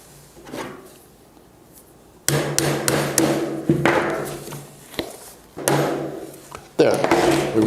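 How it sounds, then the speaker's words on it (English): A rubber mallet drives nails into the corners of a ceiling-sidewall inlet: several sharp, close knocks, spaced irregularly, after a quieter stretch with a few faint taps. "you want to use a rubber mallet, something softer so you don't break anything. And just hammer that down."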